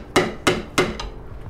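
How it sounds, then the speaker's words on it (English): Hammer striking a metal tab on a Jeep part, three sharp, evenly spaced close blows followed by a lighter fourth tap. "we'll just hammer back one of the tabs on this"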